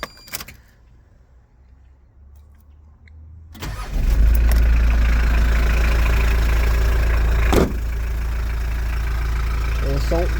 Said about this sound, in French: Je vais vous faire entendre le moteur.